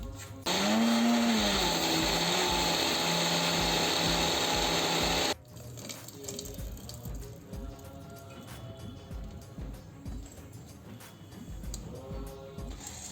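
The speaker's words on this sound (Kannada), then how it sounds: "ಸ್ವಲ್ಪ ನೀರು ಕೂಡ ಹಾಕ್ಕೊಂಡು ನುಣ್ಣಗೆ ರುಬ್ಕೊಳ್ಬೇಕು." A mixer grinder whirs loudly for about five seconds as it grinds soaked rice with jackfruit and a little water into a smooth batter, then cuts off, leaving quieter kitchen clatter.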